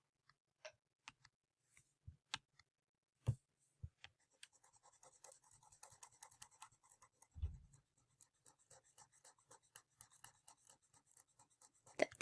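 During a math lesson, writing on a board is erased, starting with a few scattered taps and scrapes, then turning into a longer run of quick, faint rubbing strokes nearby with no talking.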